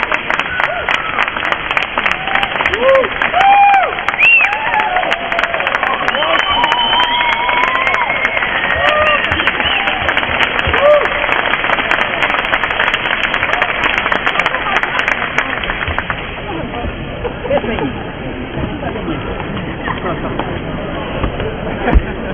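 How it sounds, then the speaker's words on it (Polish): Sustained, dense applause from a crowd at a flash mob, loud and close, with a few voices and whistles mixed in, thinning slightly toward the end. "pierwsze oklaski zaliczone"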